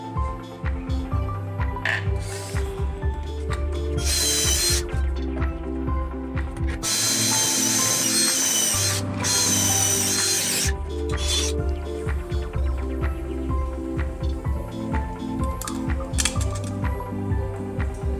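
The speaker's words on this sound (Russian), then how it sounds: "нужно подстроечный элемент рассверлить такое же отверстие" A drill bores a hole through the tuning element of a homemade helical SATCOM satellite antenna. Three loud, harsh drilling bursts of a second or two each rise over a steady tonal background, with no talking.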